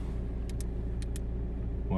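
A car rolls along the road with a steady low engine rumble that holds for two seconds, close and continuous, with faint voices in the background.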